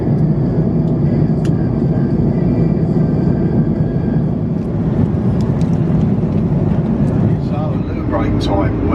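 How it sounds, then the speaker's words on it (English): Steady airplane cabin engine drone aboard a Virgin Atlantic flight, a loud continuous low rumble and hiss with faint clinks and rustles on top, unbroken throughout. "The tone of the plane, the sort of engine noise"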